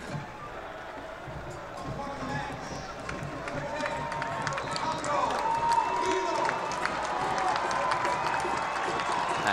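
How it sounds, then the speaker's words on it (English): Supporters at a San Diego Loyal SC versus San Antonio FC football match applaud a substituted player in the 85th minute, a broad crowd roar and clapping carried under continuous commentary. "the supporters giving him a round of applause"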